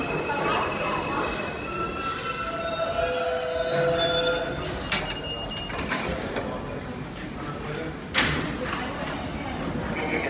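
A Queens-bound F/M subway train runs through 23rd Street station with rumbling wheels, high metallic squeals and clanks, while a voice talks over the din.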